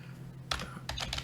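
Two quick bursts of keystrokes on a computer keyboard while writing code, close and clicky, with a short pause between them.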